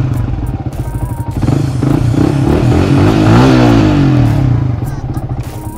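A motorcycle engine runs close by, a steady loud idle rising into a smooth rev and easing back down, with some light rattling.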